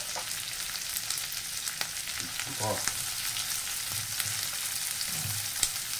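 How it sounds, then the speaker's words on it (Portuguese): Red onion fries in melting pork lard in a pan, a steady close sizzle with occasional stirring scrapes and pops throughout; a voice briefly utters something. "Vamos colocar agora a nossa cebola, que já vai derretendo, vai junto derretendo a banha, já vai fritando nossa cebola."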